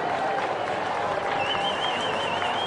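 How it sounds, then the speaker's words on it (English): A parade crowd applauds a passing horse cavalcade of charros at the Battle of Flowers Parade, a steady wash of clapping and cheering with a whistle-like tone running through it. "Some applause for this cavalcade coming by here"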